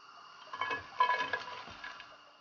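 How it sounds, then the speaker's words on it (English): Chopped leek, onion, chili peppers and garlic hit a tablespoon of oil in a frying pan, giving a soft, close sizzle with light stirring and utensil clinks. "we're gonna put 1 tablespoon of oil in a fry pan, and we're gonna put all the vegetables in"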